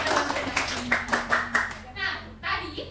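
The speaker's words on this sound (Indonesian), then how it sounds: "tepuk tangan buat Yasmin. Tepuk tangan juga buat kita semua" An audience claps for Yasmin, a run of sharp, uneven hand claps close by that fade out, while voices, including a child's, talk through the applause.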